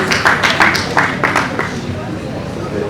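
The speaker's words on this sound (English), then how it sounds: "A round of applause for him" Audience members at a panel discussion give a round of applause, a run of scattered, fairly close hand claps mixed with murmuring voices and talk.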